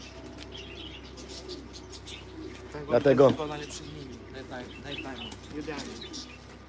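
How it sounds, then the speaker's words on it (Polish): A pigeon gives a short cooing burst near the middle, heard under quiet speech and faint background birds. "Super gołębie, takie jak mają być."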